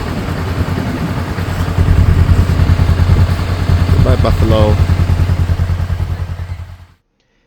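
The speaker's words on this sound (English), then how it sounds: "He herds them along with the motorcycle." A motorcycle engine putters and idles nearby while it herds buffalo along a road in Cambodia, with a brief clatter midway and someone speaking over the steady rumble before it cuts out.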